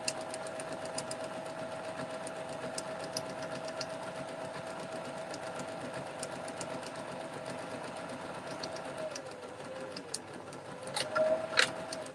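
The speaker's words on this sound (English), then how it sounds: "sew in a straight line to the end" A sewing machine stitches a seam on a fabric gift bag, a steady close whirring run that holds for most of the stretch before a brief louder burst of motor near the end.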